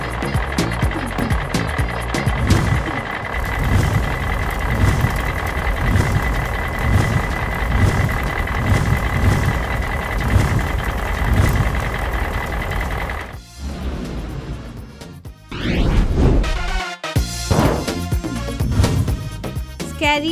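A fire truck backing up, its reversing beeps repeating steadily over a loud engine rumble, with a brief change in sound near the end.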